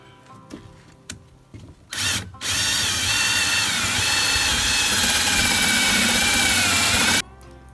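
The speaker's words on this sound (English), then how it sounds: "I need to drill the 2 holes for the deadbolt." Cordless power drill boring holes for a deadbolt and doorknob in a replacement cabin door after bear damage, a loud steady whine running about five seconds after a few short bumps and taps, with no talk.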